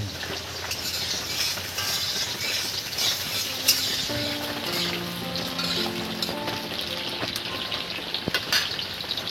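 Potatoes and carrots frying in a pan for khichdi, a dense crackling sizzle that stays steady and close, with occasional clicks and a faint tonal hum underneath, no talking.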